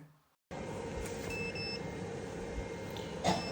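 Error beeps from a DJI Power 1000 portable power station: faint, short electronic tones that sit under a constant broadband hiss and hum, recorded close on a phone.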